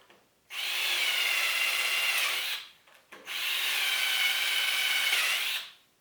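A power drill whirs steadily through wood, boring shelf pin holes, in two sustained bursts, each lasting a couple of seconds, with a brief pause between them, close and loud.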